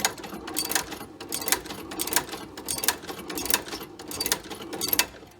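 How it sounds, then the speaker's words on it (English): A sewing machine runs a line of stitching around a new padded collar on a pair of twenty-year-old desert boots during a restoration, chattering in short, rhythmic bursts with brief pauses between runs. "run a line of stitching around the collar to make it nice and tight, ready for when we stitch it into the boot"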